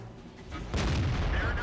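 A tank gun fires a blind shot in World of Tanks, a sudden loud boom breaking in partway through and leaving a broad rumbling blast that holds steady to the end.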